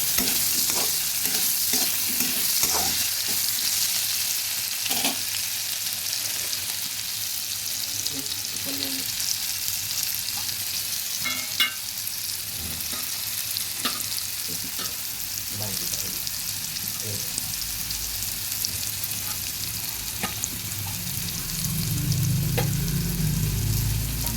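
Vegetarian cabbage seasoned with turmeric and salt fries steadily in a pan, a continuous close sizzle broken by frequent scraping stirs, with no voices.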